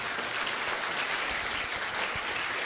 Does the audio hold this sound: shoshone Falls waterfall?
no